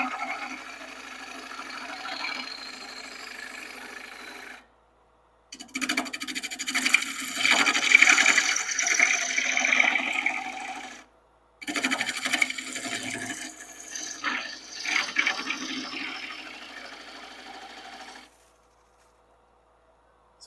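Box elder bowl, dry and highly figured, being cut on a lathe with a woodturning tool, making a close, steady scraping rasp in three bursts with brief gaps, light cuts that grow louder in the middle.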